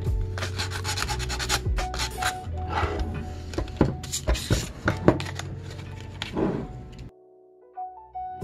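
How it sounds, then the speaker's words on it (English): Rust and debris being sanded off the metal terminals of an EE-8-B field telephone during restoration: busy scraping and rubbing strokes with knocks and clatter, close up, for about seven seconds, then a quieter hum. "I'm just trying to get the rust and debris off these terminals."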